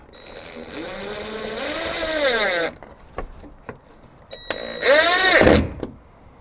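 A power driver sinks a black sheetrock screw to mount a Harbor Freight yard tool organizer, its motor whining up and down in pitch through two close bursts separated by a short pause with a few light knocks.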